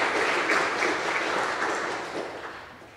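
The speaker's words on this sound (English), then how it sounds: "Please join me once again in applauding our new inductees." An audience at a National Junior Honor Society induction ceremony applauds the new inductees, a dense, fairly loud round of clapping that holds steady and then gradually fades toward the end.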